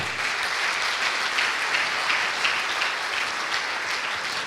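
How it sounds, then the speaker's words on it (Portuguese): Steady applause from a church congregation, a dense even patter of many hands clapping that holds at the same level throughout. "dá uma salva de palmas para o Senhor"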